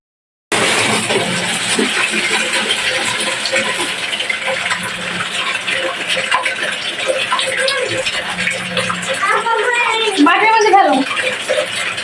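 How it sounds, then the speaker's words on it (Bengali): A dirty bird bowl is washed under running water, with a loud, continuous splashing gush that lasts throughout and voices heard faintly in the background. "একটা বাটি ধুয়ে দেখাও"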